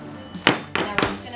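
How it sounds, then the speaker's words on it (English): A few soft, close thumps as chia seed breakfast cookie dough is patted down on a baking tray, three quick dull taps in close succession with a faint clink. "Now I'm just going to pat it down so the cookie settles in well."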